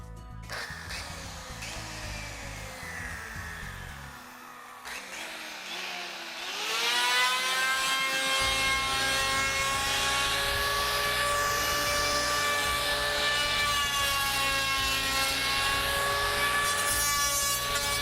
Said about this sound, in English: I'm going to actually take and plane this blank down from the rail towards the center